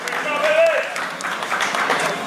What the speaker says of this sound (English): Based on the crowd cheers,